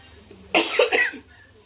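A single short burst of coughing from a woman, two or three quick rough hacks, close and fairly loud against a quiet background.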